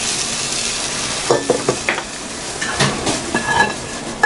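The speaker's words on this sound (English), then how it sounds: "I'm going to transfer the potatoes and carrots into the pot" Potatoes and carrots tipped into a pot while making Japanese chicken cream stew, with a sizzling background and several clattering knocks and scrapes of a utensil against the pot.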